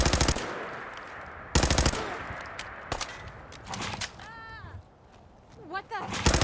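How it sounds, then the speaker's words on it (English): Gunfire in the video game Fallout 4, with several loud sharp bursts of shots spaced across the moment, plus whooshing and squealing effects between them and someone talking. "Okay, so somebody's shooting at us now."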